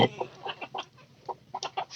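A laying hen clucking close by on a Bangladeshi homestead, a series of short, soft, irregular clucks and squawks with brief gaps, fairly quiet.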